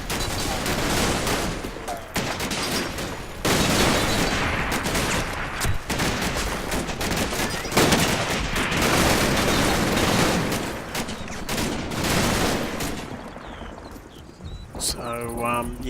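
German MG42 machine guns hammer away in a large Normandy firefight in the Combat Mission: Battle for Normandy game, dense continuous bursts of fire with overlapping shots, loud and sustained, with speech over it.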